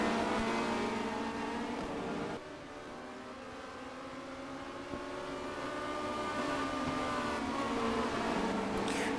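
Opel Kadett touring cars race on the Dubai circuit in a 1990 WTCC round, their engines layered in a steady, droning roar of overlapping harmonic whines that swells and dips slightly over the clip.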